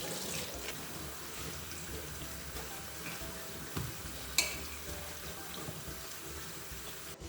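Tap water runs steadily into a kitchen sink while eggplants are washed under it, a soft continuous splashing with a few light knocks and clinks, close and fairly quiet.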